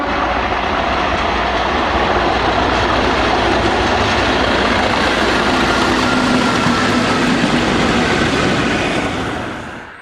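Class 37 diesel locomotive 37087 towing Class 47 locomotive 47841 through Leamington Spa, a loud, close, continuous rumble and rail clatter that holds steady before dropping away at the end.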